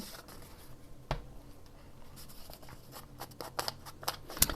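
A small cardboard box is torn and handled up close, giving scattered crisp rips and crackles, one sharp tear early and a busier cluster toward the end, over faint background noise.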